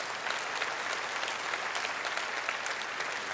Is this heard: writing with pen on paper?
no